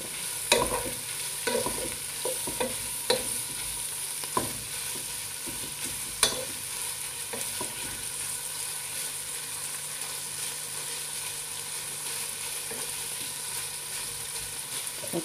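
Chicken and hotdog sizzling steadily in a pan, with a spatula scraping and stirring in scattered strokes over the constant frying hiss.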